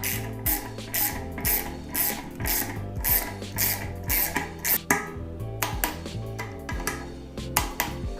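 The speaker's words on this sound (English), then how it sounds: "now fastening those bolts" Bolts on a Cannondale FSI mountain bike being fastened with a ratchet wrench, a rapid, steady run of close, crisp mechanical clicks in repeated bursts, with no talking.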